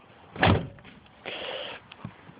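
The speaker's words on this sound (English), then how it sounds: "The doors do close nice though." The door of a 1984 Cadillac shuts with a solid thump, followed by a softer mechanical hum and a small click, all close by and with no talking.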